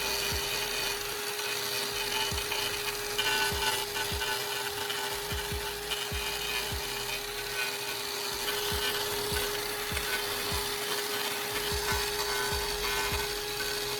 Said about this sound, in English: Watch as our modified angle grinder tackles it.